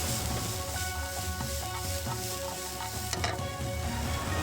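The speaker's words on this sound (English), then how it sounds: "Add the peppers, broccoli and mange tout to the pan and toss." Peppers, broccoli and mange tout sizzle loudly in a hot pan, a steady dense fry with a few scraping tosses of the vegetables, close and without talk.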